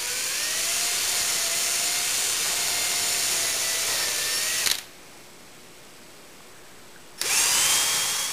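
A power drill whines steadily and loudly as it bores 3/8 inch holes into wood for a veneered table, pausing briefly partway through before starting again.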